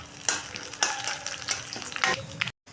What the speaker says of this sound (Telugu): ఇప్పుడు ఈ తాలింపు కొంచెం వేగాలి